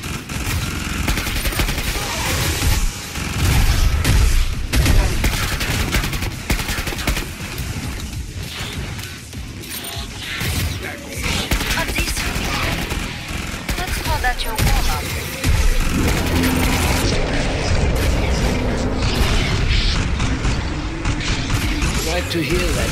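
Rapid automatic gunfire and bursts of shooting in the Killing Floor 2 video game, loud and dense throughout, with someone talking over the shots.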